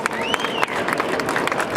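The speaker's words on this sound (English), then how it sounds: "Give Stevie a big, huge round of applause" Audience applause at a business show in Olympia, London, following a motivational speaker's session: a dense, steady wash of clapping from a crowd, sustained and fairly loud throughout.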